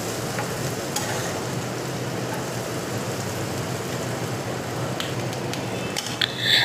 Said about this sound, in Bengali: এবার এটাকে ভালোভাবে আমি একটু নাড়াচাড়া করে নেব।